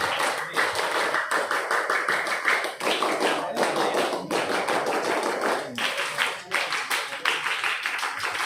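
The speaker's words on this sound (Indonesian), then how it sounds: "3 kali tepuk pramuka." Indoor Pramuka scout group performs the scout clap three times over, a patterned sequence of crisp, rapid claps in rhythmic bursts with short pauses between, loud and close, a few voices audible beneath.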